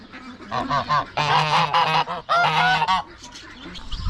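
Geese honk loudly and close by at a farm zoo in Christchurch, New Zealand, a few harsh overlapping calls in quick succession before fading out.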